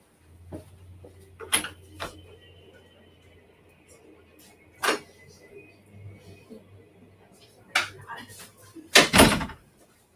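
A nearby door is opened and closed, with sharp thuds and clunks spread over several seconds, including a louder bang near the end. A quiet low hum runs underneath, and speech is present.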